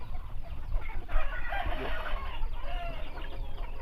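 Several chickens cluck and squawk close by in a busy, continuous chorus, with a steady low rumble underneath.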